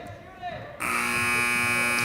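Basketball arena buzzer sounding for halftime, a loud sustained electronic tone that starts abruptly after a brief stretch of quieter arena noise and holds to the end.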